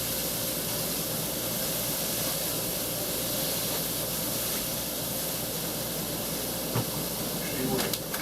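Steam hisses steadily from a pan of chicken breasts being cooked for instant chicken fettuccine, a constant broadband wash with a couple of faint clicks near the end.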